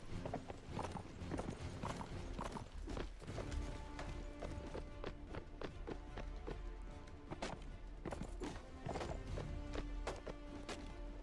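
Horse hooves galloping in Mount & Blade: Warband, a steady rapid clip-clop of hoofbeats running continuously under a low game backdrop, fairly faint.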